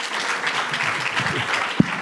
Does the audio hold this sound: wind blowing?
no